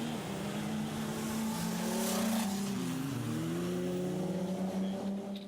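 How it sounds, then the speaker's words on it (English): A Ford Ranger rally truck engine revs hard nearby in a desert rally, its pitch rising and falling through gear changes in a loud continuous roar. "listen to the sound of his Ford Ranger"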